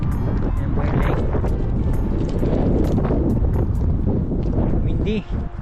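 Strong wind blows beside a lake, a loud continuous roaring rush buffeting the microphone throughout, with a voice faintly heard under it.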